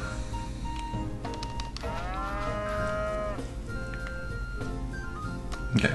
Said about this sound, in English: And then my two cows.